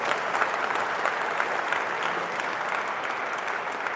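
An audience at a rocket presentation gives a fairly quiet, continuous round of applause, even and unbroken from start to finish with no talking over it.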